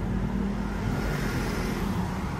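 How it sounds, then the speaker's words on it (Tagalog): Steady, loud road traffic noise from cars queued in a busy street in Baguio City, a continuous broadband engine rumble with no breaks. "Medyo may pila pa rin ng sasakyan."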